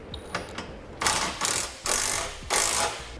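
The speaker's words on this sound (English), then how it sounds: "I can take my 3/4 socket and tighten these up." A ratchet wrench with a 3/4 socket tightens flange nuts onto carriage bolts during a trailer hitch installation on a 2014 Ford Edge, giving four bursts of sharp clicking ratcheting, close and loud.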